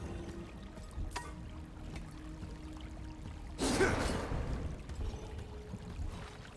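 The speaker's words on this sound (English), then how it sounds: "Water flows freely from an unknown source in this fountain." Water gushes from a fountain in the video game Ruined King, a sudden rush of splashing flow that rises midway and continues softly beneath a quiet ambient backdrop.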